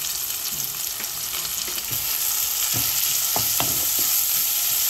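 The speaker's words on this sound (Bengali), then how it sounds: "পেঁয়াজ কষিবার লাগে পুরা সময় ওয়েট করতাম" Onions fry in a pan for a Bengali fish curry, a constant close sizzle with occasional scraping stirs of a spatula running through it, and no voices.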